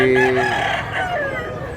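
A rooster at a crowded chicken market in Mantalungon, Cebu lets out one loud, close crow that trails off, with the hum of the market behind it.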